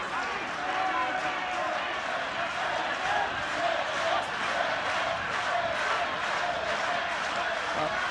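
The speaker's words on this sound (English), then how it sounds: "Not the biggest crowd in the world that Ulster have ever played in front of, but they're certainly making plenty of noise" Rugby crowd noise at a Zebre v Ulster match, a continuous roar of a modest stadium crowd, chanting and shouting in one steady wash, with a commentator's voice faintly mixed in.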